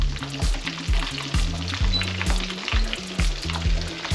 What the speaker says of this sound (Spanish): Aquí tenemos ya el aceite calentito. Y vamos a freír nuestras albóndigas.